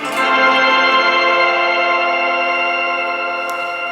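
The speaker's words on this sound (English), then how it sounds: "the most affordable pedal on the pedal board is the TC Electronic Fluorescence Shimmer Reverb" A guitar chord rings out through a TC Electronic Fluorescence Shimmer Reverb pedal, sustaining bright, high octave-like tones that hang and slowly fade.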